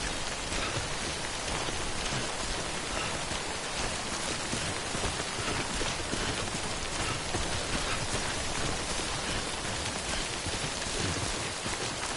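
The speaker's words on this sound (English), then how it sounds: "Don't stay out in the rain any longer than you have to." Steady heavy rain falls in the video game Death Stranding, a dense even hiss with constant pattering that runs loud and unbroken throughout, with no talk over it.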